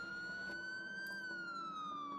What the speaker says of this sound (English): and now the siren